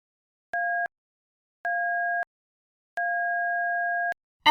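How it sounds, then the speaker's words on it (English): A fire station's automated dispatch alert sounds as clean electronic tones, with two short steady beeps followed by a longer held tone, loud and isolated against silence, before a voice starts at the very end. "the unmistakable tones of the automated voice dispatch system"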